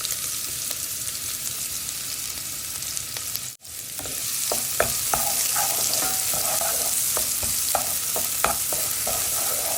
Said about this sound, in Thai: เอาหอมใหญ่ลงไปผัดก่อนนะคะ